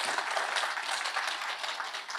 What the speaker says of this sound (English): you might be tired of clapping